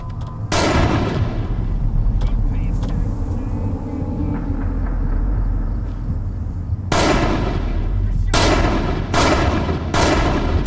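Loud gunshots in the game Manhunt 2, played with a Wii remote: a single sharp report early on, a lull of rumbling ambience, then a quick run of several heavy shots near the end.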